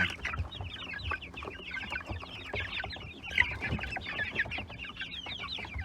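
Chickens in a coop cluck and chatter continuously, several birds close by making a busy, overlapping flurry of short calls.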